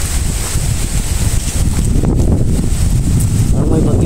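Strong, gusty wind blowing outside a house ahead of an approaching storm, a steady, loud roar and rumble buffeting the microphone without pause for the whole stretch.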